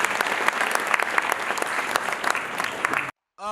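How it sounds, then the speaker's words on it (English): An audience at a conference plenary session applauding, a dense burst of many hands clapping at once, cut off abruptly before a voice starts speaking. "Can we clap hands for ourselves for being here?"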